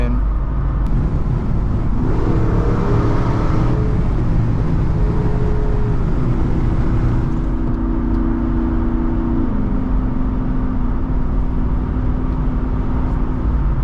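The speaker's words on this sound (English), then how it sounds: "this engine is just so fun to play with under underpasses around the city. I mean, it just reverberates off of everything around you." Jeep Wrangler 392 V8 driving on a city road, a loud continuous engine drone with gear-shift pitch changes over heavy road and wind noise, with a person talking over it throughout.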